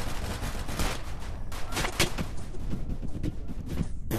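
Dense bursts of rapid gunfire in a Roblox VR game, loud and continuous with overlapping shots and impacts filling the whole stretch.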